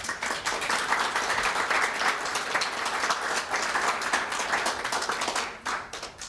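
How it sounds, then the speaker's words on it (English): A conference audience gives a round of applause, a dense continuous clatter of many hands clapping, loud and steady from start to finish with no talk over it. "give him a round of applause"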